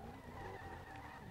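A Bugatti Veyron drifts in the SLRR racing game, its tires skidding in one continuous, steady squeal with engine drone underneath, close and fairly even in loudness, with no voices.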